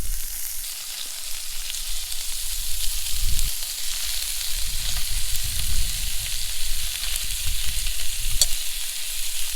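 Bacon ends and pieces fry in a pan with a steady, close crackle and sizzle of spitting fat. It runs continuously, with occasional stirring and no talking.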